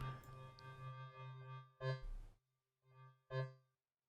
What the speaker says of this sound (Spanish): se puede notar muy claramente el eco